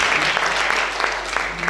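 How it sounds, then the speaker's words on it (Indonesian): An audience at a church worship service bursts into steady, full applause, many hands clapping together at close range with a few sharper claps standing out. "Kita berikan tepuk tangan yang luar biasa lagi buat kita"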